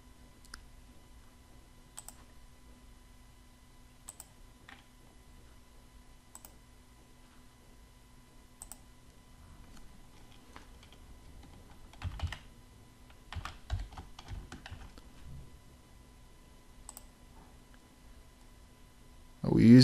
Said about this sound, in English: Let's type the name of the student.